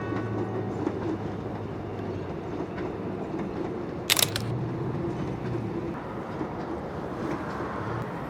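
A train rolls through a city at a distance, a low steady rumble with faint clatter, interrupted briefly by a camera shutter click midway.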